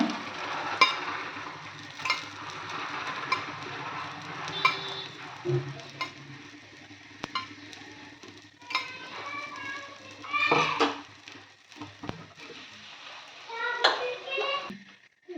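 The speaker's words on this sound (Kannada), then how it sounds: "ಈಗ ಅಷ್ಟು ಗುಳ್ಪಂಗ್ಣಿನೂ ಈ ಥರ ತಿರ್ಯಾಕೊಂಡು ಬರಬೇಕು ರೀ" Gulpangadi (rava paddu) frying in oil in a paddu pan on a gas stove while being turned one by one, with metal scraping and clinks over a soft sizzle, close by, as someone talks throughout.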